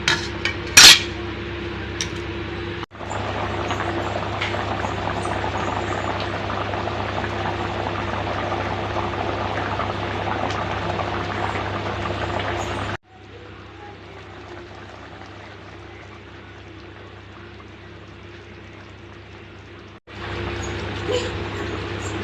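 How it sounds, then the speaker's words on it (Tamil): Tamarind water simmers in a pot for avarakkai puli kulambu, a low continuous bubbling and hiss close by, broken by a couple of abrupt cuts, with a brief clink of cookware near the start. "புளி தண்ணி நல்லா கொதிக்க விட்டுங்க."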